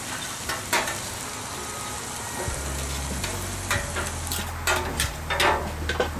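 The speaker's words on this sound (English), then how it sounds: "I'm trying to brown it before I put it on the scallops" Soy sauce sizzling on a hibachi grill alongside scallops, giving a loud, close frying hiss with bursts of crackle and scraping stirs that grow busier toward the end.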